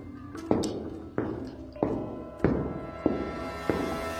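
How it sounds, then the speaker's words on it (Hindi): Six evenly spaced heavy footsteps thud on a hard floor behind the listener, each a dull impact with a short ringing tail, as a sound effect for a Hindi horror story set in a school. "तभी राज को अपने पीछे किसी के चलने की आवाज सुनाई देती है।"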